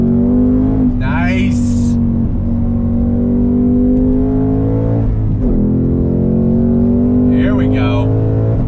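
A 2021 Ford Mustang Mach 1 accelerating hard from a dead stop, its loud, steady engine roar holding under brief spoken words.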